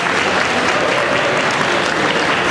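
Audience at a school ball applauds the event's sponsors with loud, dense, continuous clapping from a large crowd, steady from start to finish.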